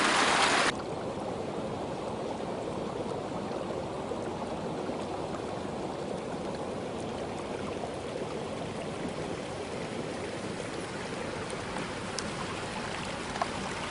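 A small creek flows steadily on its own, a constant close rushing and trickling wash with a brief louder splash at the very start.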